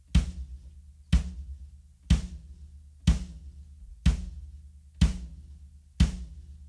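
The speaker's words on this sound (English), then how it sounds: "So just the bass drum on its own sounds like this." A lone rock-and-roll bass drum thumps on beats one and three, seven deep, evenly spaced hits about a second apart, each with a sharp attack and short boomy decay.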